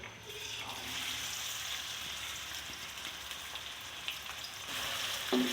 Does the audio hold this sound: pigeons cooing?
no